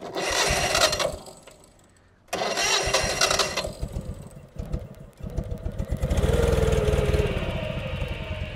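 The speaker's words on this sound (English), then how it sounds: "You can actually start the engine from under the bonnet." A 1955 British-built Citroen 2CV with a 425cc engine started from under the bonnet: a cranking burst, a pause, a second cranking attempt, then the small twin catches and settles into a steady, close, loud idle.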